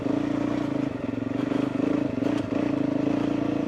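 A motorcycle riding along country roads in the Lune Valley, its engine holding a steady, close droning hum with a light mechanical rattle and faint road clatter throughout.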